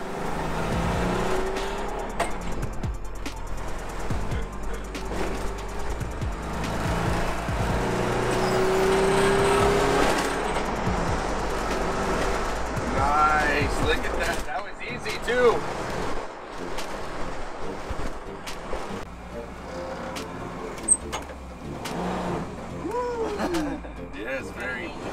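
A Volkswagen Kombi van fitted with a Subaru engine accelerates, its engine note building loud and steady for about ten seconds before easing off, with people talking over it throughout.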